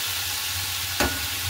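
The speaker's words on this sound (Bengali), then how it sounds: "আর এদিকে আলু ভাজাটাও করে রেডি করে নিই।" Potatoes fry in a pan with a steady close-up sizzle, broken by one short clatter as they are stirred.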